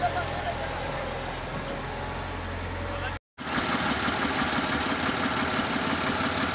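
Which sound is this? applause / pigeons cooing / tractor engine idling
tractor engine idling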